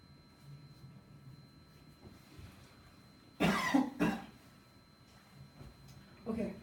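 A person gives a couple of short coughs partway through quiet indoor talk, close and fairly loud against a soft, low background.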